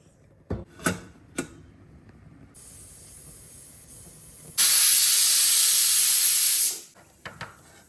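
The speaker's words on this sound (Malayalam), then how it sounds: "നമുക്ക് പ്രഷർ കുക്കർ അടച്ച് വെച്ച് വേവിക്കാം" A pressure cooker on the stove, cooking an egg curry, lets out a sudden loud, steady hiss of steam that holds for about two seconds and then cuts off. Softer kitchen knocks and clatter come before and after the burst.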